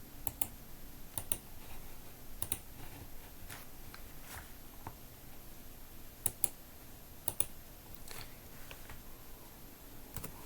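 Keys tap on a computer keyboard in a quiet room, a sparse, faint run of clicks with a few sharper, louder presses like the enter key, spread irregularly throughout.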